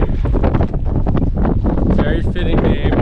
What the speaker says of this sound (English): it's for sure windy here